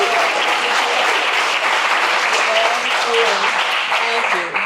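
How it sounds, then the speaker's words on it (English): Sustained, dense applause from an audience at a porch talk event fills the room steadily throughout, with a voice faintly heard over it. "Another round of applause to Miss Bell"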